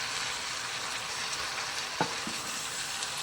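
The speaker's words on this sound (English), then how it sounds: "Alright, so I'm going to let those cook a little bit" Fresh mushrooms cooking in a pan give off a steady, even sizzle and hiss throughout, with a single soft knock of a utensil partway through and no talking.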